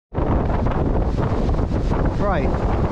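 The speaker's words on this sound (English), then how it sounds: "It's very windy." Strong, steady wind buffets the microphone at Southwick railway station on a blustery coastal line, a loud continuous roar that starts abruptly, with a faint voice briefly showing through.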